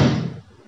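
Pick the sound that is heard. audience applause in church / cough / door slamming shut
door slamming shut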